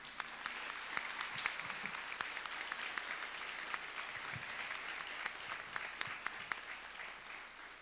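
A presentation audience applauds Julia Yadira López Chávez at a book launch, steady sustained clapping from many hands, fairly distant and soft, with no voices over it.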